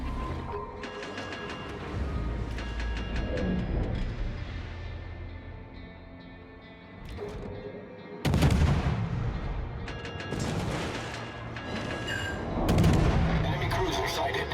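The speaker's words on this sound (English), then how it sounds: "Oh, here comes the shells though." Naval artillery shells land in World of Warships gameplay, with repeated heavy booming impacts and blasts loud and close over a rumbling battle bed, and a voice talking beneath.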